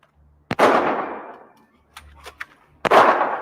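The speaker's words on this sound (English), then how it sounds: "She's shooting at us." Gunshots in a video game, two sharp loud cracks about two seconds apart, each trailing into a brief decaying roar, with a few faint clicks between them.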